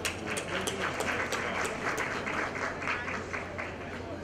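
Audience applause at a business conference on conversational commerce, welcoming a panel guest; a steady, moderately distant patter of many hands clapping continues throughout with a low hum beneath.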